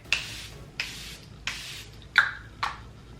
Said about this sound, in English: let me just set my face one more time with the Charlotte Tilbury spray